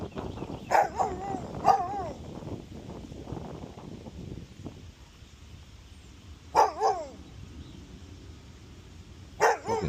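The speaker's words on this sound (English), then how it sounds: "What dog is that?" A big dog barks in a few sharp, loud bursts spaced apart outdoors at a rental property during an HVAC service call, with wind noise and quieter whimpering between barks.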